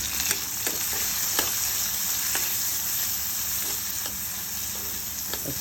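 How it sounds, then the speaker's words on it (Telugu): Onions cooking with turmeric in a pan give a steady close sizzle and frying hiss, broken by a few sharp stirring scrapes, with no voices. "వేసి ఉల్లిగడ్డల్ని బాగా మగ్గనివ్వాలి."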